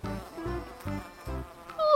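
Insect buzzing in a children's story scene with two flies, rising and falling in repeated swells close up, ending with a brighter whine, with no talking over it.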